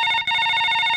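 After a number is redialed on a phone in a Tamil comedy sketch, a loud, steady electronic ringing tone plays up close, briefly dipping once and then continuing unbroken, with no voices.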